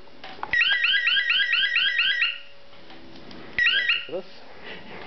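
A security alarm chirps in a rapid warbling pattern for about two seconds, falls silent, then gives one short repeat burst.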